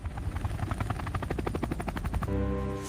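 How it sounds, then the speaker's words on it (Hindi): An army helicopter passes overhead with a loud, rapid rotor thump that pulses steadily and grows fuller, then shifts into a steady engine whine with a tonal hum near the end. "ये आर्मी वालों का हेलीकॉप्टर है"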